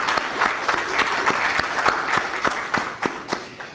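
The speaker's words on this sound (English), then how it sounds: "Let's clap it up for Sierra" A meeting audience claps for a student being introduced, giving steady, fairly close applause with distinct individual hand claps popping out of the even wash throughout.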